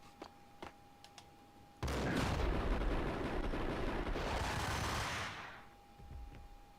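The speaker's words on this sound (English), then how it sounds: "Stop throwing grenades!" Grenade explosions in the Max Payne video game: a sudden loud blast roars and rumbles for several seconds before fading, preceded by a few sharp gunfire cracks and a steady background tone.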